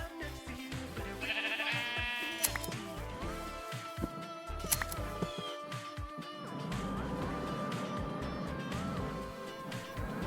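Sheep bleat in Minecraft among game music and sound effects, with short bleats standing out over a busy, steady game mix.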